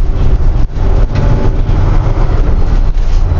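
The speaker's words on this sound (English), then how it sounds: "So I'm going to go ahead and just give it all engine brake right here." Engine brake on a 2022 Peterbilt 567 truck with a 605 hp Cummins X15, a loud, steady low-pitched rumbling drone heard from inside the cab with brief dips, continuous throughout.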